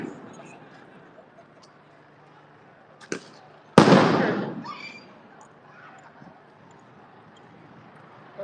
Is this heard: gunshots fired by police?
yes